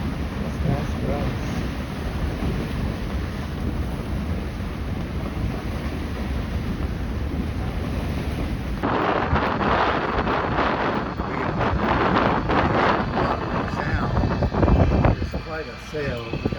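Strong wind roars across the microphone while a sailboat scoots along in 20-plus-knot breezes, constant and loud, with water rushing and gusts swelling in the second half.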